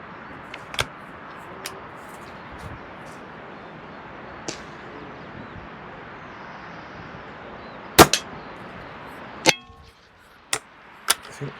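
Shots from a tuned Weihrauch HW95k spring air rifle firing pellets outdoors: several sharp, isolated cracks spaced seconds apart over quiet background ambience, with one louder, close shot followed by a faint metallic ring.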